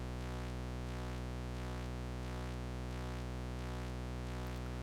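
One held note from a Martinic AX73 synth plugin with a bass oscillator layered underneath, giving a dense, bright, buzzing tone with a slow rhythmic sweep, loud and steady throughout, no voices.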